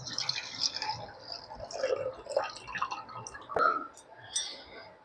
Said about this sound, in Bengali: আমি এই সামা চালটাকে দুবার ধুয়ে নিচ্ছি